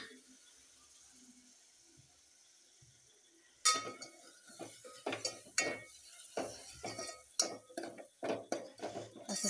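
Masala stirred and roasted in oil in a pan over a low gas flame, with a burst of spoon scrapes and metal clinks starting a few seconds in, irregular and fairly close, after a quiet opening.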